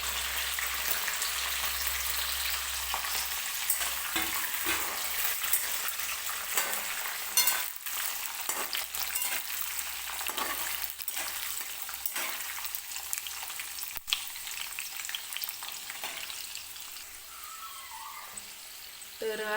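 Chana dal and curry leaves fry in hot oil for lemon rice, giving a continuous crackling sizzle punctuated by sharper pops and spatters, fairly close and moderately loud, with no talking.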